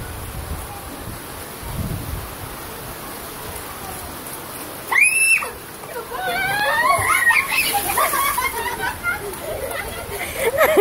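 Water splashes and pours during a water fight in a rainstorm, with rain hiss in the background and voices shrieking and chattering over it.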